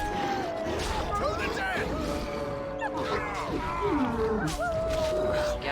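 Wolves in the Dragon Age: Origins video game snarl, yelp and howl in a chaotic fight amid a dense, loud mix of battle effects, with overlapping animal calls throughout.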